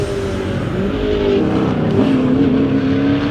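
Race cars at a club racing track, engines droning loudly and continuously with a rising pitch as one accelerates near the end.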